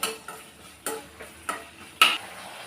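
Chopped onion sautés in a pan for a village-style dry fish curry, with a soft sizzle under four or five sharp, evenly spaced clacks of a spoon stirring against the pan.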